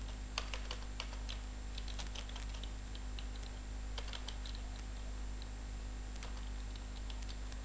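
A sentence being typed on a computer keyboard while editing in MS Word, quick irregular key clicks in short bursts over a steady electrical hum, close and fairly quiet, with no talking.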